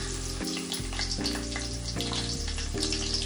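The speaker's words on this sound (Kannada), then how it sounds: "ಈರುಳ್ಳಿ ಸ್ವಲ್ಪ ಫ್ರೈ ಆಗಿದೆ." Onions frying in hot oil with ghee, garam masala, cinnamon and cloves: a dense, continuous sizzling hiss, close and fairly loud, overlaid by a steady droning tone that shifts pitch in steps.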